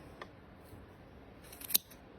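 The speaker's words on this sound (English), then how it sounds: "take those scissors again" Scissors cutting through a homemade paper bookmark for kids, a quiet scene with a couple of faint snips and one sharper close cut near the end.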